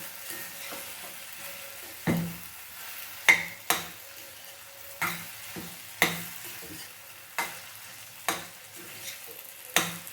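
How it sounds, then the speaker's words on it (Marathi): Chopped okra with tomato is stir-fried in a pan, a faint sizzle running underneath while a spoon scrapes and knocks against the pan in sharp, irregular strokes every second or so. "अधूनमधून अशी परतून घ्यावी"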